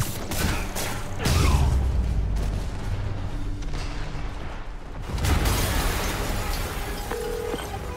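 A large explosion in the video game Marvel's Spider-Man Remastered, heard as a dense, loud rumbling roar with heavy low booms that swell, ease off, then surge again over several seconds.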